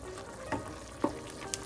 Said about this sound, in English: It is boiling.